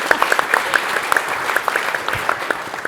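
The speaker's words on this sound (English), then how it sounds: "I didn't mean to give you a round of applause" Audience applause at a corporate event after a quiz-style scores announcement, a steady round of clapping from a room of people, moderately loud and close.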